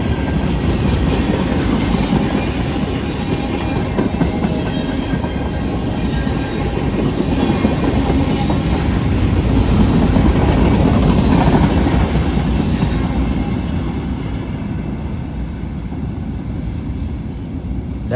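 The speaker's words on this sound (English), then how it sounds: "Heading west on the Mount Victory sub, this was a very interesting train the other day." A westbound freight train on the Mount Victory sub rolls past, led by C40-8W, SD70 and ET44AH locomotives, a steady loud rumble of engines and rail cars with clickety-clack wheels and faint squeal throughout.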